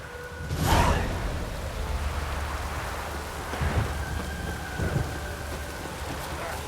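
Steady rain pours in a video game world, with low thunder rumbling beneath and a few heavier rolls building and fading over the constant wash.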